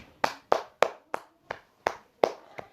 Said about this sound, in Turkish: Kendim valla alkışlıyorum.